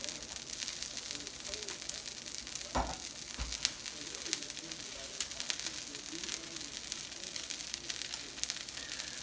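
A pepperoni pizza omelette frying in a pan sizzles quietly and steadily, with crackling pops and a soft thud or two as it is handled.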